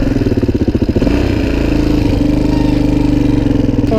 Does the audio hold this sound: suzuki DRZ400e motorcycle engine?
yes